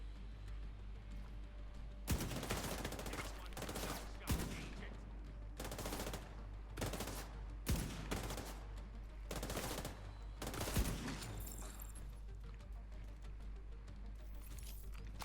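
Gunfire in The Division 2 video game, a series of sharp, distinct shots and short bursts spaced irregularly over a steady low background hum.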